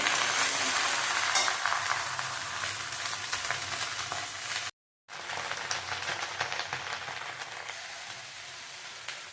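Okra and potato fried and stirred in a pan, a dense continuous sizzle with scraping stirs, broken once by a brief silent gap before carrying on.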